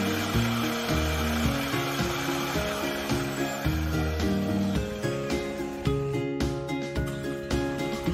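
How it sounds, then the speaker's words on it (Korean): A remote-controlled hose reel on a DNG2000 pesticide sprayer winds up the hose, giving a steady motor whine with rhythmic clicks and knocks as the reel lays the hose down, all heard close by. "호스릴도 리모컨으로 정렬하면서 감아줍니다."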